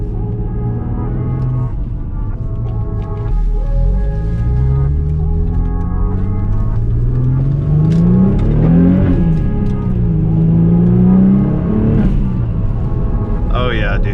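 An Audi S4 on its first drive after a brake upgrade, its engine revving and accelerating with rising and falling pitch sweeps, loud and close throughout with a speaking voice over the engine.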